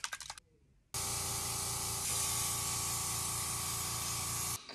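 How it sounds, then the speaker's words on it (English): An airbrush sprays face paint in one long, steady, close hiss of about four seconds, after a few brief clicks and a short quiet gap, with no talking. "I haven't airbrush face painted in years, but I think I'm gonna give it a try tonight."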